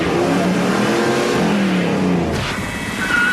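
A car's engine revving hard and rising in pitch during a reverse skidding spin-around manoeuvre on a driving course, loud and close, with a brief swish near the end.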